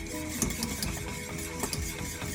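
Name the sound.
stirring lemon tart filling in a pot on the stove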